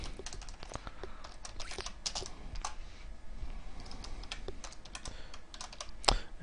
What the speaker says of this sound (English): in case you're wondering about my sloppy typing